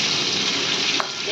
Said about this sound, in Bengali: তেল গরম হয়ে গেছে, দিয়ে দিলাম চিংড়ি মাছটা।